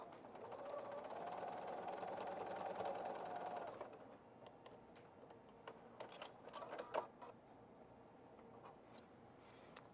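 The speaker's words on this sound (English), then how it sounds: "Just a straight stitch with the needle back in the center position. And we'll stitch along that line." Sewing machine running a straight stitch along a line on an outdoor cushion, with the needle in the center position; a steady mechanical whir for about four seconds, then it stops, leaving faint clicks and handling noises.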